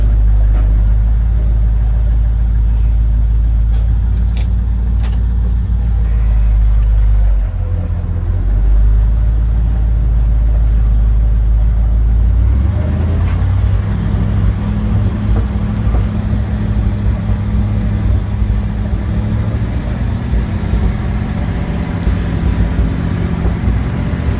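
A 1971 International Travelall 1210, back on the road after 22 years of sitting, runs and drives with a loud, steady low engine rumble and drone that shifts in pitch partway through, with no talking.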